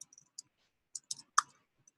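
Typing on a computer keyboard produces a handful of quiet, sparse key clicks at an irregular pace, heard alone without speech.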